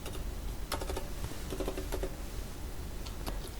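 Close, fairly quiet keystrokes on a computer keyboard as a colour code is entered, a short run of separate taps in an irregular rhythm with no voices.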